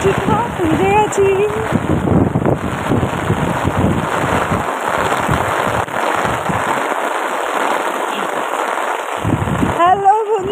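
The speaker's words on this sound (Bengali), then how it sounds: "আমার ব্যাগটা ভিজে গেল, প্রচন্ড বৃষ্টি হচ্ছে" Heavy rain pours down outdoors, a loud, dense crackling patter close to the microphone with buffeting wind noise throughout, briefly easing in short gaps.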